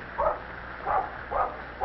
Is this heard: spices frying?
no